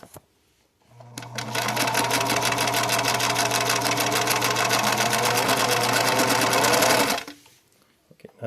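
Vintage 1950s Swiss-made Bernina 534 straight-stitch sewing machine stitching through paper, a steady fast mechanical whir and rapid needle clatter for about six seconds, starting and stopping cleanly.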